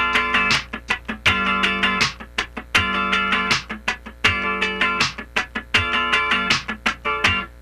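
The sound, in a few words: electric guitar playing four sixteenth notes in a row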